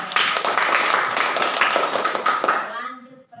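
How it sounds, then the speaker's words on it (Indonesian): A classroom of students claps for a classmate, giving a lively, dense burst of many hands slapping together that fades away near the end, with a teacher's voice over it. "mari kita tepuk tangan untuk Jessica"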